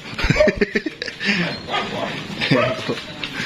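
Dogs bark in short yaps at a doorbell amid people talking and chuckling nearby, the barks scattered through the moment.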